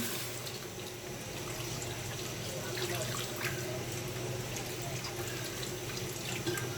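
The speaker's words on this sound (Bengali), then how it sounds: "এখন আমি পানি দিয়ে দিলাম।" Water runs steadily into a pan of fish curry with small potatoes and tomatoes, a continuous even splashing and trickling that stays at one level from start to finish with no voices over it.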